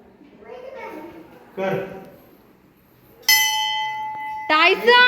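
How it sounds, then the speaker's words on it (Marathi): A large temple bell at a Ganesh temple rings out twice with a bright, sustained metallic tone, clear and close, following earlier chatter from a child and adults. "तिथे मोठी घंटा आहे"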